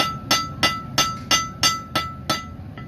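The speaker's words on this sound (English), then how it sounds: "I'm striking it at a further angle with the hammer." Hammer striking hot blade steel at an angle on an anvil during bladesmithing, nine sharp metallic clangs in a steady rhythm about three per second, close and ringing.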